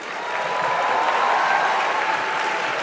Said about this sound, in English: That was the applause part.